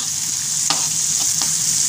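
Egg fried rice with mixed vegetables stirred in a hot pan, a steady bright sizzle of frying throughout with a few sharp scrapes of the spatula, close up.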